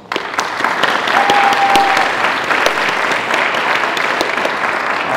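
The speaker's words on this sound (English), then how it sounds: "everyone, round of applause for Morgan." A high school military signing ceremony audience claps for an honoree, a dense, sustained round of applause that carries evenly for several seconds from the crowd.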